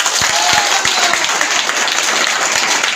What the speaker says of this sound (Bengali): স্বপন দার জন্য জোরে হাততালি হোক